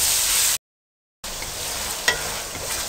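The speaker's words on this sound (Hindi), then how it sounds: "और अब आपने इसको अच्छी तरह से भून लेना है।" Mixed vegetables and peas frying in a pan for a vegetable korma, a steady close hiss of sizzling with a sharp tap of stirring near the end, broken by a brief gap of silence.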